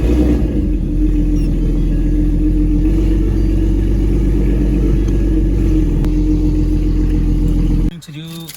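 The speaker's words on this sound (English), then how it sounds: "a little cold start" A car engine on a cold start holds a loud, steady, deep rumble for about eight seconds before it abruptly drops to a quieter, lower hum near the end.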